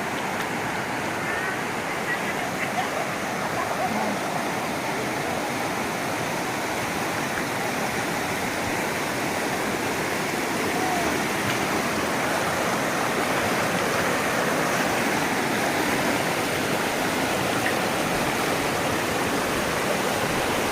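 A mountain stream on a hiking trail rushes steadily and fairly close, a continuous broad wash of flowing water that stays even for the full length with no clear voices above it.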